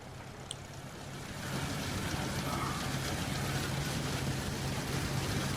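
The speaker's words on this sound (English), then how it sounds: "Surprising the difference in the engine noise of these two." A multi-cylinder engine runs at a steady idle, giving a continuous low drone with a fairly quiet, even hum that swells slightly after the first second and then holds constant, with no talking.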